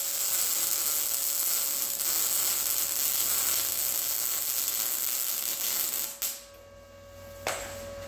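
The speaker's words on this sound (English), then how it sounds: "get these pipes welded" Roll cage pipes being welded on a car: a steady, close crackling hiss runs for about six seconds, cuts off, then a short second burst follows.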